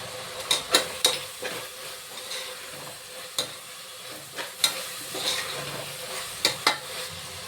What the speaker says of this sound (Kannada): ಅದು ಸ್ವಲ್ಪ ಫ್ರೈ ಮಾಡ್ಕೊಳ್ಳೋಣ. ಪುದೀನ ಫ್ರೈ ಆಗಿದೆ.